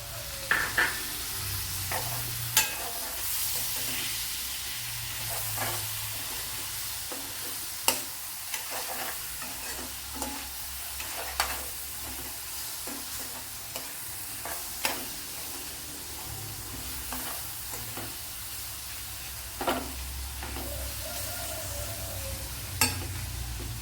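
Two chopped medium tomatoes sizzle and fry in a hot pan, a steady close crackle broken by occasional sharp knocks and scrapes from a stirring spoon, with no voices.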